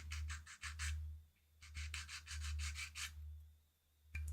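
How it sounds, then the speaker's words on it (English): Sandpaper rubbing a plastic model kit part in rhythmic bursts of quick back-and-forth strokes, close and fairly quiet, with short pauses between sets and a low steady hum underneath. "Ah, the lovely sound of sandpaper on plastic."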